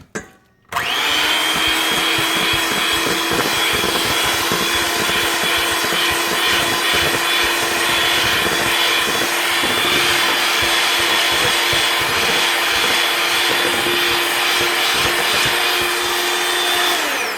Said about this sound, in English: Now what I'm going to do is I'm going to mix it together with my egg beater.